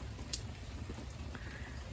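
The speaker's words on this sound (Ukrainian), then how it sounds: "Такий просто спокійний, повільний дощик." Light rain falling as a soft, steady hiss with a few scattered drops tapping nearby, no voices.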